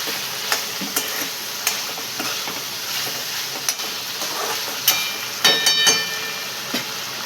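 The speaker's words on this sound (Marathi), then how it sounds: "5 मिनिट आपण असं छान परतून घेऊया. म्हणजे सगळा मसाल्याला लागेल." Prawn and potato masala sautés in a pan with a continuous soft sizzle and occasional light taps and scrapes of stirring, close and steady, no voices.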